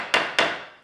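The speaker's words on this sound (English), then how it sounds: "a fantastic woodpecker hammer" A toy woodpecker hammer from a tap tap tool box set taps twice, two sharp woody knocks in quick succession, each ringing briefly before fading, close and clear with no voices.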